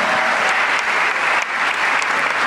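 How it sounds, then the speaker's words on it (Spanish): Applause fills a church congregation, a steady wash of clapping from many hands held at an even level throughout, with no speech over it. "Den un aplauso al Señor."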